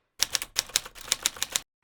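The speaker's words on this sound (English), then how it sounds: "just sitting down and typing as fast as I can" Fast typing on a keyboard, a quick run of crisp key clicks in short bursts with brief pauses, close and clear, no voices.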